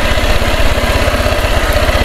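A loud motorcycle engine chugging with a rapid, even low pulse, close by, running steadily under load while climbing a slope.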